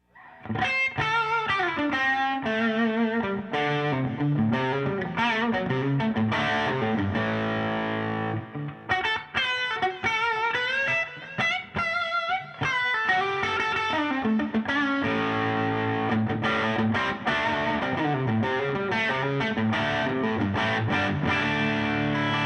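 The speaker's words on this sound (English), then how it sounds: "flavors of distortion in there" Electric guitar played live through an amp with pedals, heavily distorted and effected tones in busy riffs and bends, loud and continuous apart from one brief pause.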